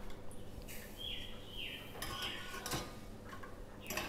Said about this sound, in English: I'm just going to leave this here continually stirring until everything is melted